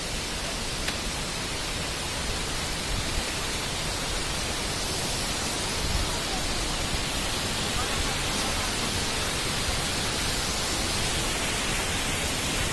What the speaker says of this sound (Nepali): झर्ना आइरहेछ